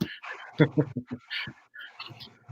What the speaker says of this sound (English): Tiffany, show everybody my dogs right now